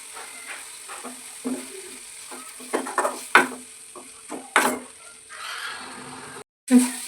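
Masala being stirred and fried in a pan for egg puffs filling, with a spoon scraping and clinking against the pan in an irregular rhythm over a steady close sizzle, briefly cut off near the end.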